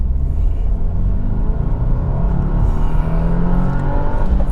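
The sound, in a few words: 2025 Subaru WRX tS accelerating on the road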